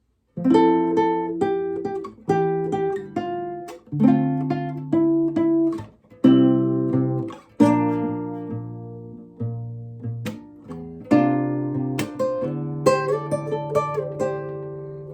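An acoustic guitar strums and picks the chorus chords of a song in short, separate phrases, each ringing out and fading before the next, with no voice.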